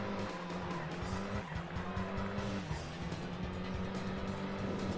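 A rally car races a forest tarmac stage in the SEGA Rally Championship video game, its engine droning loudly and continuously with shifting revs and bursts of tyre squeal and skidding.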